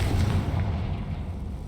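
A Confringo fire spell cast in Hogwarts Legacy gives a loud, dense burst with a heavy low rumble and roar that holds steady through the short moment, with no speech.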